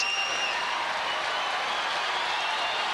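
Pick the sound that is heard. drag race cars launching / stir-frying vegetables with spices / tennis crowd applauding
tennis crowd applauding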